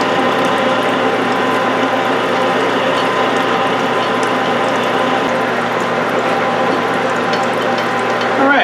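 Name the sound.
roughing reamer cutting a rifle chamber on a Mauser barrel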